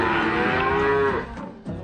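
A cow moos as cows are called into a corral, one loud, long, close low call that fades near the end, followed by a brief soft noise, with no voices.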